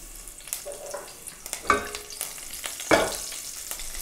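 Curry leaves torn and tossed into hot ghee, giving a few sharp crackling bursts and spits over a faint background sizzle, close and fairly quiet, with no talk.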